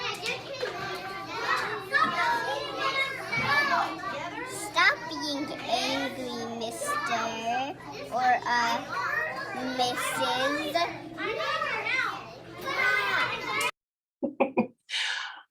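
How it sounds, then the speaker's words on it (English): Lively chatter of several children playing nearby, voices overlapping continuously, then a sudden drop to near silence with a few brief faint sounds at the end. "You can hear all the other kids in the background"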